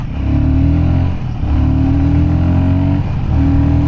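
A 400cc motorcycle in sport mode accelerates hard, its loud, close engine note climbing in rising pulls that briefly dip between gear shifts before surging again.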